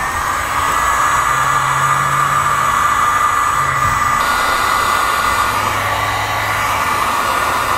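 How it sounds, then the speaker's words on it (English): A heat gun blows a loud, steady whooshing rush of hot air at close range while shrinking heat shrink tubing on trailer wiring for a Jeep brake controller setup. "we can use a heat source to shrink the heat shrink and make a nice, good seal. We're gonna be using a heat gun."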